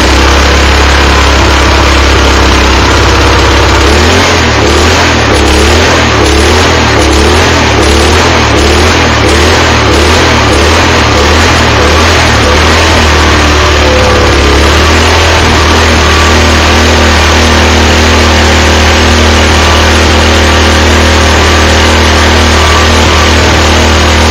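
A tiller's small engine, just repaired, chugs loudly and steadily at close range, its putter briefly rising and settling before holding a constant idle, with no voices.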